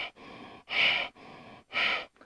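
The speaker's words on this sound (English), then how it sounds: "Breathe in and breathe out." Slow, deep abdominal breaths in a beginners' yoga class: two long, airy inhalations and exhalations alternate in a steady rhythm, heard close and alone with no talking.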